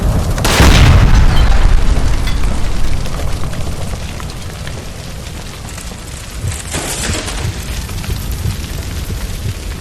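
A gas line explodes in the L.A. Noire video game with a loud, deep boom near the start, then a long rumbling roar that slowly fades as debris and fire crackle through the rest.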